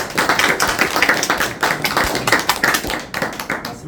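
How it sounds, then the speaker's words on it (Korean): Church congregation applauding in praise during a Korean Sunday worship service, a dense, continuous patter of many hands clapping at close range with no voices over it. "우리 하나님께 영광의 박수 돌려드리겠습니다"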